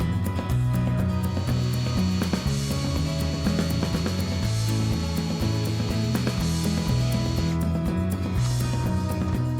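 Steady grinding drill whine running continuously throughout, with a droning low hum and scraping tone as the bit bites into a metal alternator bracket; no voices.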